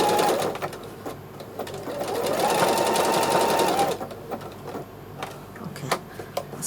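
A sewing machine doing free-motion quilting to darn neck patches, loud and close, running in a fast steady stitching whir that stops and restarts in short bursts with small mechanical clicks.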